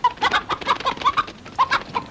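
A chicken clucks in a quick, uneven run of loud, close calls, about a dozen short bursts with brief pauses, and nobody speaks.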